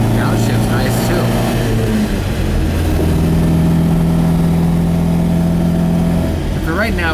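A 1967 Volvo Amazon 122S station wagon with a B18 dual-carb engine drives along with a steady, loud mid-pitched drone, its note shifting down and then holding level under faint talk.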